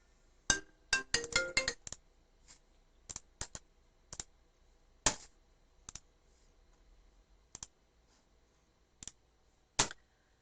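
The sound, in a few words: phone ringing with an incoming call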